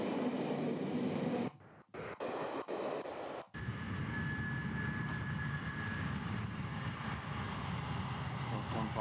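Steam locomotive Tornado runs on the Settle and Carlisle line, heard as a steady, heavy rumbling roar after a brief break near the start, fairly close and continuous, with no talk.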